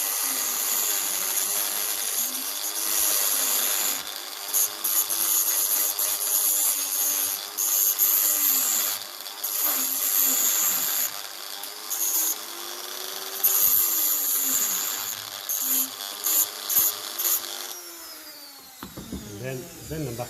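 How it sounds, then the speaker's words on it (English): A Dremel rotary tool with a small cutting disc cuts rusted split pins on a 1954 Ferguson 20 diesel tractor, giving a close, high-pitched whine that rises and dips with each pass and pauses briefly now and then. "I use my trusty Dremel with a small little cutting disc on it, and I cut them as close as possible to the pin"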